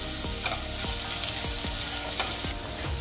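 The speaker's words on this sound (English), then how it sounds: "Open the lid and stir it again." Onions frying in a pan for Rayalaseema uggani, stirred in regular scraping strokes over a loud, continuous sizzle, close up with no talk.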